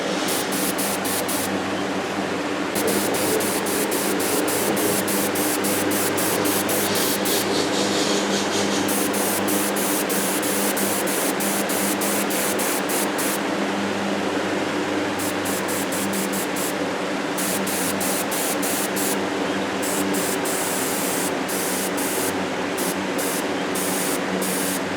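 A spray gun applies a coating to Subaru WRX pistons in a continuous close hiss of thin passes, with brief sputtering breaks where the spray cuts in and out.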